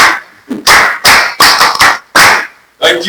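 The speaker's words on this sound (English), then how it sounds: "Clap for Mohammed." An audience applauds for Mohammed in a few loud, distinct bursts of hand clapping, each separated by short pauses, close and sharp.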